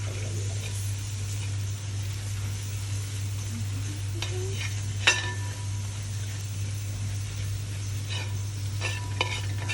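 Food frying in a pan with garam masala and onion powder, stirred with a spoon, producing a light sizzle over a steady low hum, with a few scraping strokes and one sharp clink.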